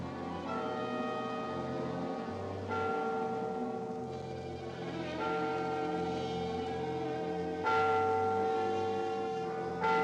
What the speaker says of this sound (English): So strange about a church bell ringing.